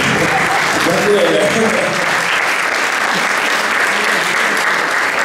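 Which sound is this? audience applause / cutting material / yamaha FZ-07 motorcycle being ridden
audience applause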